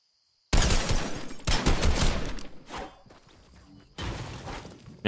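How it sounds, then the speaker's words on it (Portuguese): Rapid automatic gunfire in the video game Fortnite, loud and close, firing in dense bursts for most of the moment with a brief lull before another burst. "Minha vez de atirar."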